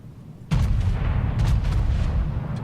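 Battleship main guns fire in a World of Warships naval battle, opening with a sharp loud boom that rolls into a sustained heavy rumble with further blasts layered on top, close and dominant.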